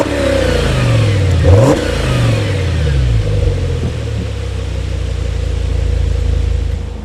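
An Audi RS6 Avant estate's engine revs hard, a loud rising and falling roar with a sharp blip early on, then settles into a deep, sustained rumble close by.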